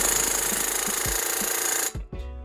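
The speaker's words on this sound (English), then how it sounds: "we're gonna go ahead and remove our 18 millimeter bolts here and down here that hold the strut to the knuckle" Power tool loosening 18 mm strut-to-knuckle bolts on a car during caster/camber plate installation, a loud rapid hammering burst that cuts off abruptly, followed by a brief whir.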